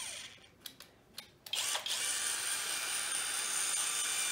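A saber saw attachment clamped in a cordless drill starts with a few short bursts, then runs continuously with a steady, buzzing high-pitched whine close by.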